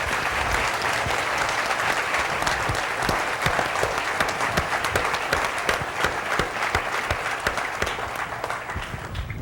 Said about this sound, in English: we should give a round of applause to all the police officers and those responders